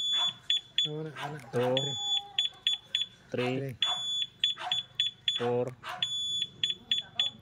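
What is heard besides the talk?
two-way motorcycle alarm beeping on a Honda Click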